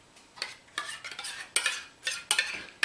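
Silver plate spoon stirring a muffin batter of barley flour, a series of irregular scraping and clinking strokes against the bowl, close and fairly quiet, with no voices.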